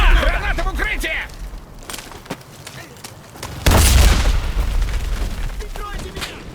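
A grenade bursts in the Enlisted shooter on PS5 during a village defense, one heavy booming blast partway through amid scattered gunfire, with shouting voices before it.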